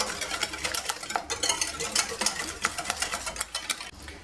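A spoon stirs a halawiyat sweet mixture with a glass of oil in a bowl, making rapid, irregular scraping and clinking strokes close up, with slight wet smearing between the hits.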